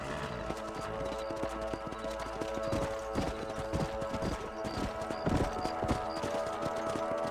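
Horse hooves clip-clopping steadily as a rider travels across a ranch in the Red Dead game, moderately close with a regular rhythm, over a soft musical background with a brief whinny.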